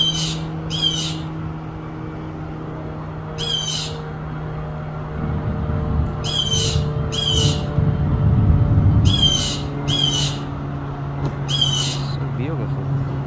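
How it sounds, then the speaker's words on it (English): A small bird squawks in short, harsh bursts, mostly in pairs, loud and close, over a steady low hum with faint background noise. "look at this bird"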